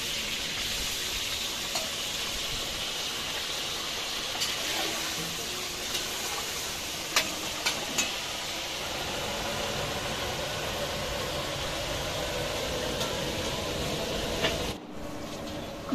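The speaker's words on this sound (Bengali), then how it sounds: "এবার আমি বেগুনটা ভেজে নেব" Eggplant fries in hot oil in a wok, a steady, hissing sizzle that holds evenly throughout with a few faint clicks and no clear talk.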